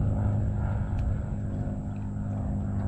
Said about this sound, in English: Neat little plane just flying down the river.